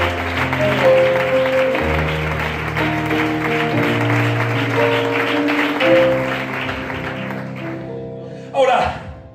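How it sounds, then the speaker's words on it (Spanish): A church congregation claps together for God during a sermon, a sustained loud round of applause over organ or keyboard chords, fading near the end as a voice cuts in. "Dale un fuerte aplauso a Dios."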